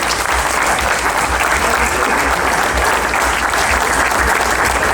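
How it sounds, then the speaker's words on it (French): Applause from the audience at the official inauguration of the 20th cassoulet festival in Castelnaudary, greeting Christian Combe: dense, steady clapping that fills the whole stretch at a loud, even level. "vous pouvez l'applaudir"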